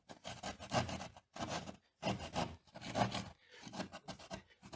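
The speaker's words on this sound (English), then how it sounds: "we're just going to outline it with the saw and make the hole." A hand saw cuts a hole in drywall, making about five rough, rasping strokes in a steady back-and-forth rhythm, close and fairly loud, with short pauses between strokes.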